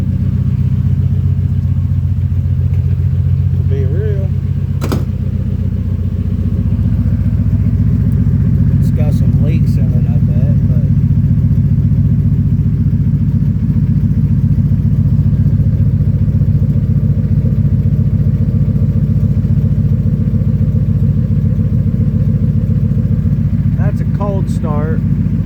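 A 2000 Ford F250 Super Duty with a 5.4-liter V8 exhaust through a Flowmaster FlowFX muffler welded to a Cherry Bomb rumbles in a deep, steady idle, close and loud throughout, with brief voices now and then.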